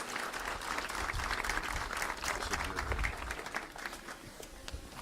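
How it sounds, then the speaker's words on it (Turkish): An audience applauding at the opening ceremony of a spearfishing program, a continuous crowd of clapping hands that sounds fairly distant and soft, tapering off slightly at the end. "Başkanımız için kuvvetli bir alkış alabilir miyiz?"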